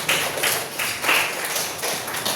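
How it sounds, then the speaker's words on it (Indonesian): Classmates in a school classroom give a round of applause for a fellow student, a brisk uneven patter of many hands clapping in short bursts, moderately loud and close. "Tepuk tangan dulu untuk temannya"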